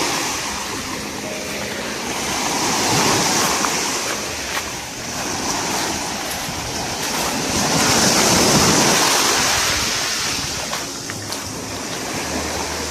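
Sea waves surge and break on the coast near Vasco in Goa, a fishing-boat landing spot, with a steady broadband roar that swells twice to louder peaks, mixed with wind buffeting the microphone; no one speaks.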